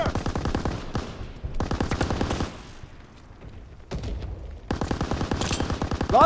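Rapid bursts of machine gun fire from the Call of Duty: WWII video game come in loud, repeated volleys separated by short pauses, with no talk.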